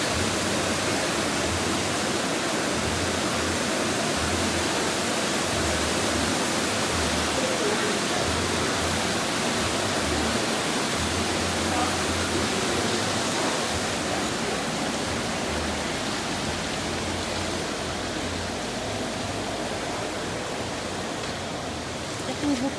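A river runs under the bridge at an outdoor river dining spot, giving a loud, constant broadband rush of flowing water that carries on unbroken, with a person speaking faintly beneath it.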